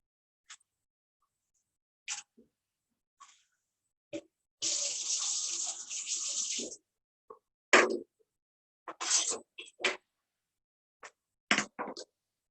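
Water from a tap runs into a 1/4 measuring cup in a single steady two-second stream, surrounded by short quiet clinks, splashes and handling noises in an otherwise silent kitchen.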